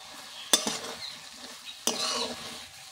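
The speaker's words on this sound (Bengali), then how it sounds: "এবার আমি ভেজে রাখা ঢ্যাঁড়সগুলো দিয়ে দেবো।" Fried okra goes into a pan of hot, sizzling spices and is stirred, with three sharp scraping stirs against a soft, steady sizzle close by.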